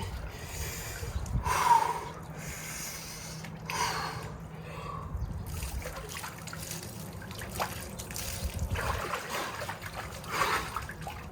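A man dunks his head into an ice bath, cold water sloshing and trickling close by, with sharp snorting breaths and gasps as he surfaces, the splashing continuing unevenly throughout.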